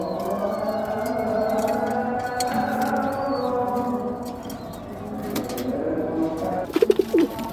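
Racing pigeons coo repeatedly in a loft, soft rolling calls layered and overlapping, with a brief sharper bird call near the end.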